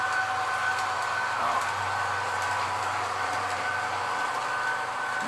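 A Lionel Flying Yankee model train with a can motor runs slowly, giving off a steady, quiet electric whine and a low hum that stays even for several seconds with no break.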